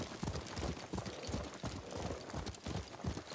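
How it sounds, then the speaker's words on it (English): Horse hooves clip-clop steadily in the video game Ghost of Tsushima, a quick, even trotting rhythm heard alone at low level. "What a good horse."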